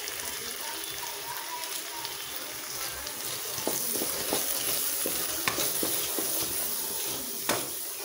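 Tomatoes, turmeric powder and kuzhambu masala powder sauté in a pan for egg kuzhi paniyaram kuzhambu, giving a steady close sizzle broken by sharp clicks and taps of stirring.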